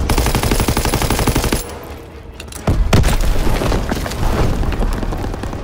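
Call of Duty WWII battle: a tank and rapid machine-gun fire pour onto infantry in dense, loud bursts, then a short lull gives way to heavy booms and renewed crackling gunfire.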